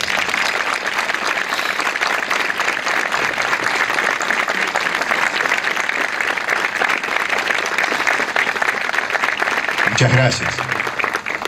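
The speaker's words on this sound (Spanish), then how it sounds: "quiero que nos unamos en comunidad para brindarles un fuerte aplauso." Strong, sustained applause rises from a large community crowd at a flag-raising ceremony in San Carlos Centro, loud and even throughout, with someone briefly saying thanks near the end.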